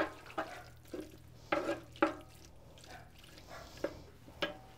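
Entrevero of mixed meats with pinhão cooking in a pan, soft sizzling broken by several sharp stirring scrapes and clacks at irregular intervals, close and fairly quiet.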